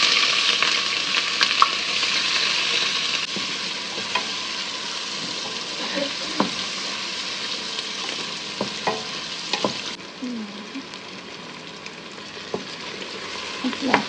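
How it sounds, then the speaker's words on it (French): Onions fried in oil over high heat, a bright continuous sizzle with scattered clicks and scrapes of stirring, easing slightly toward the end; no speech. "on va faire revenir les oignons pendant quelques minutes à feu vif"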